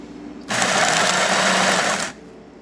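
Coffee grinder burrs grinding beans on a coarse setting, a steady whirring grind lasting about a second and a half, close and loud, starting and stopping abruptly.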